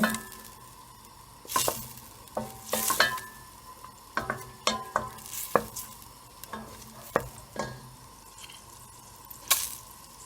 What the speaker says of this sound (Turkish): Tereyağımı eritiyorum.